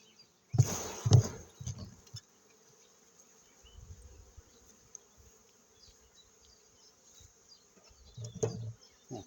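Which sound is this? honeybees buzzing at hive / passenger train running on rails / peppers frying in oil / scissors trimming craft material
honeybees buzzing at hive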